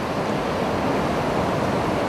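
Ocean waves surge in a steady, dense wash of surf around a surfer waiting in the swell, with the broad roar holding loud and unbroken, no voices.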